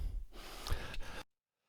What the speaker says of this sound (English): you have heard this breathing noise